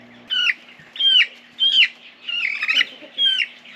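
American Breese chickens cluck in five distinct bursts with short gaps between them, close up and fairly loud against a faint steady hum and no talking.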